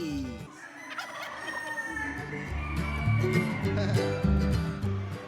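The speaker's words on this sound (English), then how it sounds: "And turkeys." Fairground turkeys gobble in repeated bursts alongside other fowl, with chickens and a crowing rooster mixed in, moderately close amid a busy barn-like din.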